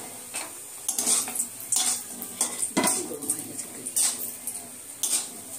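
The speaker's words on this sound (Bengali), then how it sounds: "আমি বড়িগুলো ভেজে নেব।" Lentil bori dumplings frying in hot oil for shukto, a soft sizzle broken by repeated metallic clinks and scrapes of a utensil against the pan, close and rhythmic.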